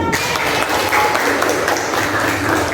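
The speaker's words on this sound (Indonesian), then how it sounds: "Oke, tepuk tangan." Classroom applause from a group of students, a steady, dense patter of clapping that fills the whole short stretch at close range with no speech over it.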